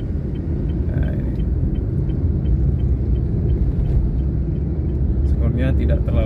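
Heavy trucks rumble along a busy public road between Medan and Siantar, a steady low engine drone filling the whole span, with people talking over it.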